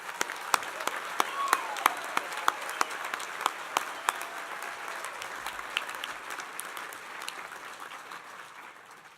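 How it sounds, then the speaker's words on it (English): A commencement audience applauds engineering graduates at a college ceremony, a steady wash of many hands clapping in a large hall with sharp individual claps standing out, slowly fading near the end. "Please join me in a round of applause in congratulating the students on this joyful occasion."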